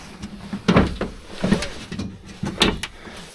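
Door on a 1981 Range Rover latching shut gently without a slam, several soft clunks and clicks in a row, close by in a workshop.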